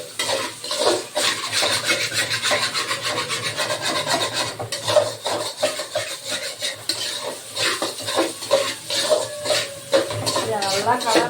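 Macaroni pasta mixed with egg being stirred in a pan, a spoon scraping and rasping against the metal in steady, continuous strokes up close, with faint voices here and there.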